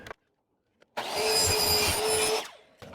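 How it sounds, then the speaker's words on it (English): A power saw cuts the aluminum of a window interlock in one loud, close burst of about one and a half seconds, starting abruptly after silence and winding down sharply. "We only need to cut the aluminum, and we're going to take off 1/4 inch."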